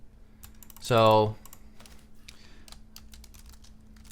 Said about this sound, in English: Okay, so now I can type.